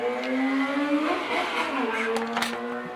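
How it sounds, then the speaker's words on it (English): A motorcycle engine revs and whines with rising and falling pitch, loud and sustained over three seconds, with faint background chatter. "Did you hear that motorcycle?"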